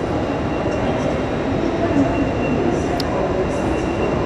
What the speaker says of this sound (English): it might just be because it's very loud, all the train noises and stuff